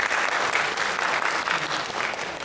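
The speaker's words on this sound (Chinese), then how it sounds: "掌声欢迎那个吴教授。" An audience at a scientific lecture applauds to welcome a professor, a dense, steady wash of many hands clapping throughout, loud and close, with no talk over it.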